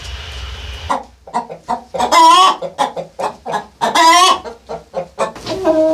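Chickens cluck close by in quick, irregular bursts, with a couple of louder drawn-out squawks rising above the steady clucking.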